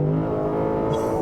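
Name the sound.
Lexus V8 engine revving, amplified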